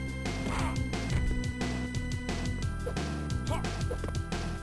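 A fighting character in a beat-em-up video game lets out repeated screeching hawk-like cries, loud and close, layered over busy, driving game music and hits.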